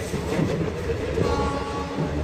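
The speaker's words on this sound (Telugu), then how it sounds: "యాపిల్ తోట మధ్యలో నుంచే పోతుంది ట్రైన్ మొత్తం" A train running from Srinagar to Baramulla through apple orchards gives a steady, close rumble of wheels and carriages, continuous for the whole stretch with no talking.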